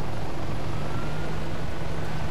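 Steady low rotor drone of a helicopter flying in the video game ARMA 3, a continuous dense rumble with no pauses and no talk over it.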